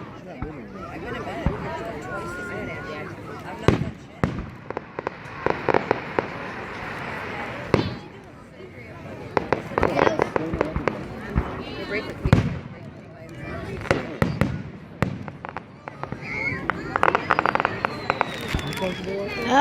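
Fireworks explode outdoors at night in a series of sharp booms and crackling bursts at irregular intervals, some near and loud, others more distant, with people talking and chattering throughout.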